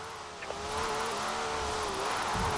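Forza Horizon 4 car revving hard with tyres scrabbling and squealing through a drift, a steady sustained engine note with a rising whine, no talking.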